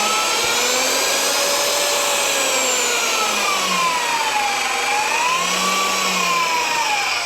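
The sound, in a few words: reversible variable-speed magnetic drill running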